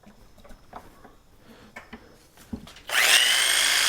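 An electric hedge trimmer, just cleaned, lubricated and reassembled, starts after some quiet handling clicks and runs with a loud, steady high-pitched buzz for the last second, close and without talk.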